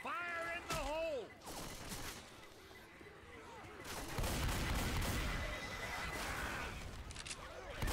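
A grenade explosion and gunfire in Left 4 Dead 2 follow a shouted in-game voice line, then a booming blast and rolling, crackling gunfire build up loud and dense through the rest of the clip.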